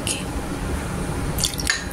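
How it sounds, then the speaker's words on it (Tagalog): A little water poured into a beef hor fun marinade gives soft drips and a brief liquid trickle near the end, close and quiet, with no talking. "Lagyan din natin ng konting tubig."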